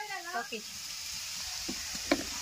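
Onions fry in a home kitchen pan with a soft, continuous sizzle and an occasional stirring clink; a voice is briefly heard at the start.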